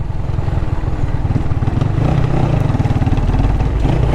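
A motorcycle engine ridden through a city business district in Kingston, Jamaica, chugs loudly with a rapid throbbing pulse, its revs dipping and settling as the rider drops down a gear.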